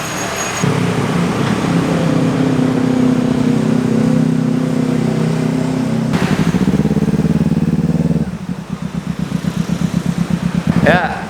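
Modified Kawasaki Ninja motorcycle on a test ride, engine droning steadily then rising as the throttle opens, with a gear change and rough pulsing revs toward the end, loud and close under occasional talk.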